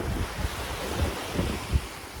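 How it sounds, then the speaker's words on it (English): Mediterranean Sea waves washing in close by, a soft continuous surf wash with wind noise on the microphone and a few low thuds of water breaking. "This is a close-up look of the Mediterranean Sea."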